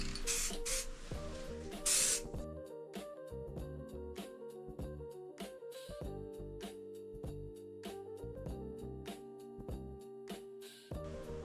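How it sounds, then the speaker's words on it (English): Spray paint hisses in short bursts onto custom side panels for a 1997 Honda Rebel 250cc chopper. A couple of brief, sharp sprays stand out early on, over steady background music. "once I've finished spraying"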